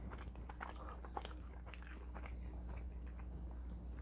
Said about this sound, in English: Tastes just like an Oreo.